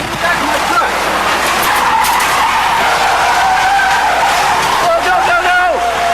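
A truck skids with its brakes loose during a landslide in Venezuela, loud tire squeal and grinding over a constant engine roar, with excited shouting voices throughout.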